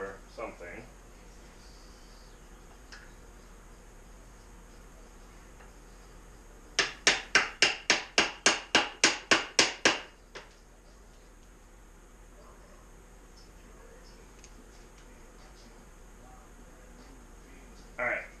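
A flathead screwdriver used as a pry bar is hammered into a Subaru transmission, giving about eleven sharp metallic blows in a quick, even run, close and loud against a quiet workshop background.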